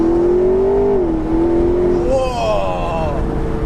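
A McLaren 650S Spider accelerates on an open road, its engine note rising steadily with a gear change partway, loud and close from inside the car.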